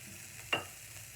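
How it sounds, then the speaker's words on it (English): Defrosted broccoli hits a hot, smoking pan with one brief, soft sizzle burst that fades quickly over a quiet kitchen background. "I'm going to throw it in, and you're going to hear that sizzle."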